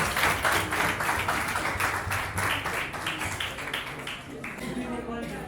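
Wedding guests applauding together after the ring exchange, a dense steady wash of clapping from a crowd that fades slightly toward the end, with some voices underneath.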